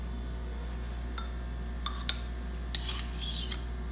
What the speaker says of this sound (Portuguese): Um pouquinho de barulho de colher